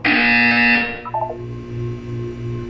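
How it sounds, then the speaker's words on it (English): A loud, harsh electronic buzzer in Portal 2 blares for under a second, then cuts off, leaving a low hum and a few faint beeps. "You will hear a buzzer."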